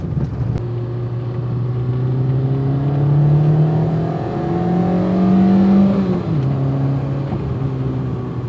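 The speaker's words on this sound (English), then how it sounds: "Take a listen to that little engine just revving away." A Peugeot 106 Rallye Phase 1 small car engine revs continuously while driving, its pitch rising and falling in steady sweeps, loud and close with a constant drone throughout.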